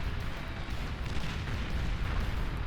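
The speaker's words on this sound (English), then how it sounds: "we do have cloakable pop-up plasma artillery" Plasma artillery firing in the strategy game Beyond All Reason: a dense, continuous low rumble of overlapping booms that stays steady and heavy throughout, with no distinct pauses.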